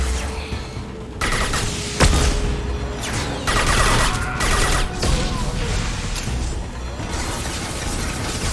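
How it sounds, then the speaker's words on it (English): Video game gunfire crackles in bursts of sharp shots and impacts, with loud cracks and clattering mechanical noise over a steady battle din. "Taking fire!"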